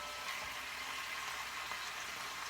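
Jerk chicken searing in a pan, giving a steady, even hiss of frying that holds unchanged for a couple of seconds, moderately quiet and close, with no talking.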